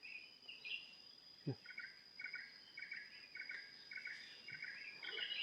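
Repeated short bird calls in a regular series sound in hill forest over a steady, high insect drone, with a faint thud or two in between.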